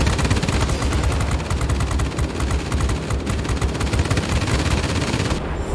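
Massed machine-gun fire from the gunners of a B-29C bomber in a combat video game, rapid, loud and continuous bursts rattling without pause, ending abruptly.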